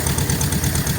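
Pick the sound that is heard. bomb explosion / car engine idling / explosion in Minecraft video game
car engine idling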